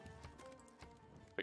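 Horse hooves clip-clop in the Civilization strategy game, a quiet repeated trotting pattern of soft thuds with a brief louder click at the very end, no talking.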